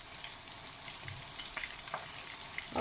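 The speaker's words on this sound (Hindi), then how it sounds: "तो चलिए अब इसको 5-10 मिनट के लिए इसी तरह फ्राई करेंगे" Stuffed bitter gourds (karela) frying in a pan over a medium flame, giving a steady, close hiss of sizzling oil with a few faint scrapes and small pops.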